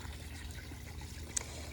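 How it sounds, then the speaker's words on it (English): A small garden fish pond with a newly added aerator gives a faint, continuous trickle of bubbling water, quiet and close, with one brief splash near the end. "We put in an aerator, and now there's a bunch more flow and a bunch more oxygen."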